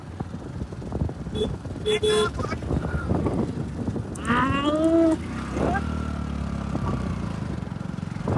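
A buffalo moos nearby with a long, drawn-out low call outdoors on a rural path, heard amid wind noise and people talking around it.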